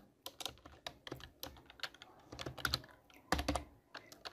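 Python code being typed on a computer keyboard: a steady run of close, sharp keystrokes with uneven rhythm and a few heavier presses, lasting several seconds, no voice present.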